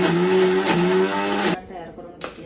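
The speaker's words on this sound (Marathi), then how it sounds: "तर हे वाटण मिक्सर करून घेणार आहे मी।" A kitchen mixer grinder blending onion paste for chicken gravy, a loud, steady motor whine for about a second and a half that cuts off abruptly, then a brief restart near the end.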